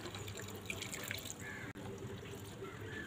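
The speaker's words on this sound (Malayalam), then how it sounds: "ഇപ്പം എല്ലാ ചെടികൾക്കും നമുക്ക് ഈ ഫിഷ് അമിനോ ഒഴിച്ചു കൊടുക്കുക." Fish amino liquid fertilizer poured from a container around a tomato plant in a grow bag, a steady trickling stream with faint drips, close and fairly quiet, with no talking.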